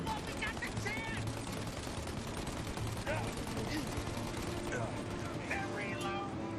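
Sustained gunfire in the video game Mafia: Definitive Edition, a dense continuous fusillade of shots and mechanical clatter with voices shouting over the top throughout.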